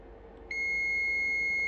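A multimeter in continuity mode gives a steady, piercing beep when its probes touch a shorted part in an electric scooter. The tone starts suddenly about a third of the way in and holds unbroken to the end over a faint background hum.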